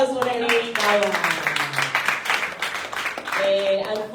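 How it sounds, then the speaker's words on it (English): A live event audience claps for latecomers, a scattered burst of applause running under a host's ongoing talk for several seconds. "A round of applause for the late comers."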